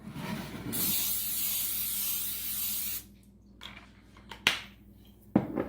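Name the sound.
cooking spray on baking sheet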